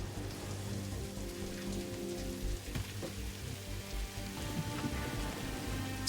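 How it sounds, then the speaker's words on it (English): Steady rain falls in the video game Satisfactory, a continuous hiss of droplets on surfaces under a low droning game ambience, even and moderately loud throughout. "When did they add rain to the game?"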